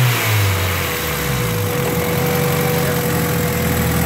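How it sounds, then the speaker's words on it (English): A loud Honda Civic engine, one with stalling and idling problems, runs close by, its exhaust note rising with a brief rev before settling back to a steady, rough idle throughout. "if you guys want to hear this car, I'll give you a little preview real quick of how loud this thing really is"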